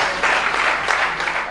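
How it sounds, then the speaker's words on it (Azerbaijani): Brief burst of audience applause at a stand-up comedy monologue show, a steady wash of many hands clapping together without talk. "alqışlamaq olar"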